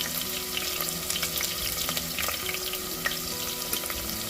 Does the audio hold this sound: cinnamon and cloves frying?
yes